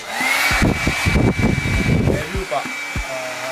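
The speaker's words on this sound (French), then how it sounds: "Vous pouvez pas voir, mais là, j'ai un petit sèche-cheveux." A small hair dryer blows on a barbecue to get it lit, making a steady, high whine with a whooshing airflow. It runs under close, loud talking in French.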